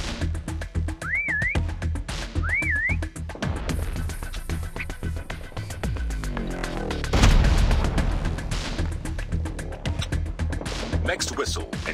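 Prop hunt whistle in Call of Duty: two rising-and-falling whistled tones sound early on, then give way to dense gunfire, explosions and a deep boom, with voices talking throughout.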